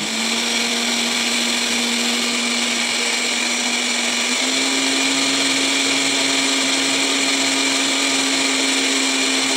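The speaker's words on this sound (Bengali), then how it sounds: "চিকেনটাকে কেটে নিয়েছি, কালো জিরে আর লঙ্কা দিয়ে দিয়েছি, দিয়ে মিক্সিতে বেটে নেবো" A mixer grinder runs steadily, grinding chunks of chicken with black cumin and green chilli, a loud continuous whirring motor hum that rises slightly in pitch midway and keeps going alone without pause.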